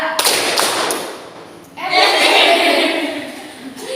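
A class of students clapping along to a called-out count pattern, dense bursts of claps with a brief lull before a louder, fuller round, near and fairly loud, a voice calling the counts.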